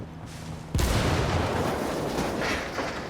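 A frag grenade detonates in the Ghost Recon Wildlands video game, a sudden loud boom that stays alone and rumbles on with a long, noisy roar for a couple of seconds.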